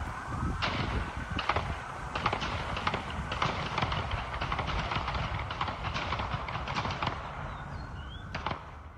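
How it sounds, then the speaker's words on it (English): A rapid volley of gunfire during a police shootout in which an officer was shot, recorded from a distance by a bystander: many sharp cracks over steady outdoor background noise, irregular and spread across several seconds, with no talk. "A volley of gunfire is what you hear."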